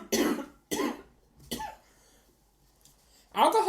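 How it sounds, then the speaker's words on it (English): A person with a frog in the throat coughs close to the mic, three separate rough coughs spaced about half a second apart, then a quiet pause before a louder throat sound at the end. "I'm gonna cough."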